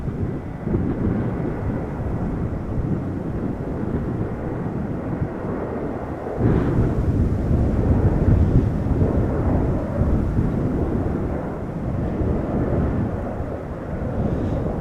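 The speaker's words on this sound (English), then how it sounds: "Looks like another heavy is taking off from center. This looks like an A330 from Turkish." A heavy Turkish Airlines Airbus A330 takes off from the centre runway at Amsterdam Schiphol, a steady, loud, broadband jet roar that swells slightly partway through and rumbles on continuously with no talk.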